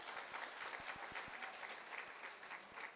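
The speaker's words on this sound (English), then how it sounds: "A round of applause." Applause from the audience at a Xhariep District well-done function honouring school learners. Steady, dense clapping from a moderate-sized indoor crowd runs the whole time, with a few sharper individual claps standing out.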